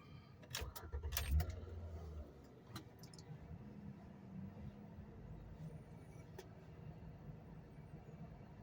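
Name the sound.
Ford Five Hundred car engine starting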